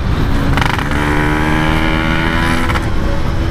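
Yamaha RX King two-stroke motorcycle engine running close and loud, a raspy, slightly wavering drone with brief rises in pitch, no talk over it.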